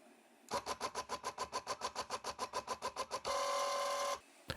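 A converted CNC mill's X-axis drive runs one way in a fast, even train of stepping pulses, then switches to a steady, continuous whine before stopping. The sound is close and mechanical, with no talking.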